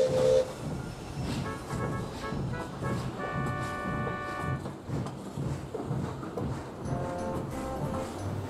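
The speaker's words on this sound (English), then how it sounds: "the guard blew his whistle, and Gideon and Ashton set off" A train sets off after the guard's whistle, with a low rumbling, rattling roll of railway cars and brief tonal horn or whistle notes rising above the steady noise, moderately loud with no voices.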